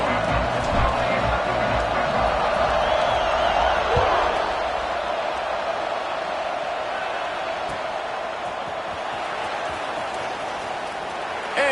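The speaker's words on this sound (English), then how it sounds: "this crowd is buzzing after that last score" Stadium crowd noise in a Madden football video game, a steady broad roar of buzzing fans after a score, loud and continuous throughout with a swell early on, no clear speech over it.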